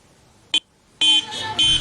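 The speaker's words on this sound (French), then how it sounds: "Klaxons, youyous et cris de joie." Car horns honk in a wedding convoy: one short blast, then a longer run of loud, overlapping honks with a crowd murmuring behind them.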